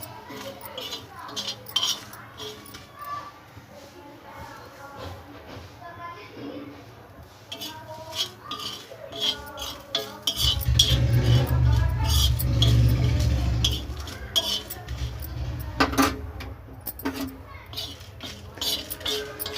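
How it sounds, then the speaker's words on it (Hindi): Spices roast on a tawa griddle while being stirred, with repeated scraping clinks of a utensil against the metal, and a low rumbling hum joins midway. "तवे पे इन सारी चीज़ों को भून लेंगे। एक मिनट के लिए भूनना है इन्हें।"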